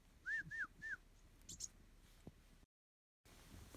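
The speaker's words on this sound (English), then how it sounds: "So, some birds over here chirping." Birds in the snowy Oregon Cascades in winter, three quick whistled chirps near the start followed by fainter scattered calls over quiet outdoor background.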